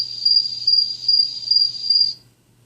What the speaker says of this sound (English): crickets chirping while it says audience clap